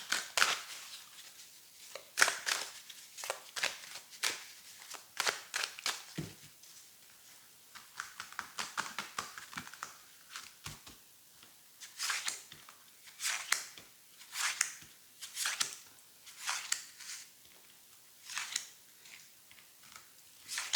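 Tarot de Marseille cards being shuffled and dealt out one by one, giving a long run of soft, close, crisp flicks and slaps in an irregular rhythm with no talking.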